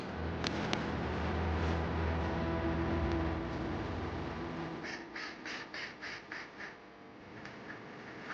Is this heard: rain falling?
no